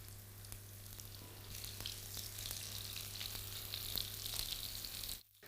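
Italian meatballs sizzle steadily in hot oil with a sprig of rosemary, a close, even crackling fry with occasional pops that stops abruptly near the end.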